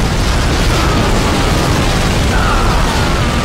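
Heavy, sustained booming explosions from a Star Wars Battlefront battle, loud and overlapping, with a faint rising whine drifting above the rumble.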